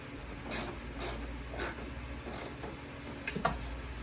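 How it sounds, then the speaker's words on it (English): Ratchet clicking while tightening a 10mm nut on the battery of a 2016 Chevrolet Suburban: several short bursts of crisp pawl ticks at a steady pace, close, over low background hum. "10mm. I'll crank it down once that one's fully on."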